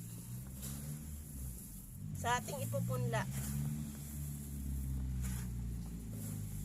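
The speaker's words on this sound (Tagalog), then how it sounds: "Pasensya na, guys, maingay yung sasakyan ng kapitbahay namin." A neighbor's car engine idles nearby with a steady low hum and hiss throughout, while a person talks briefly over it.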